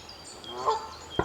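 Canada geese honk near a mute swan nest. There are a couple of close, nasal honks, one drawn out midway and a sharp one at the end, over a quiet outdoor background.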